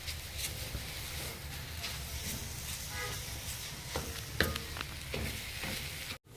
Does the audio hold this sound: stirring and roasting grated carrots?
yes